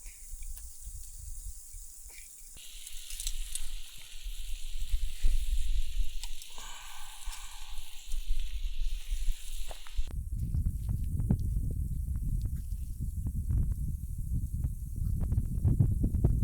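Food sizzles in oil and fat over a campfire with a soft, steady crackle and hiss, joined by a fuller low roar of flame in the later part.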